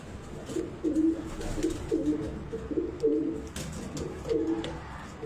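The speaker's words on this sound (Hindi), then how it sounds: "उस्ताद हमीद के घर के चीने कबूतर हैं" Chini pigeons kept as high-flying record birds in Karachi coo in steady, rhythmic low phrases, repeating about every second, close and fairly quiet.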